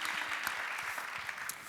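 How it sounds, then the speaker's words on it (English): Quiet applause from an audience at an ocean race summit in Aarhus, with a soft, even spread of scattered clapping that sounds somewhat distant. "yes, round of applause."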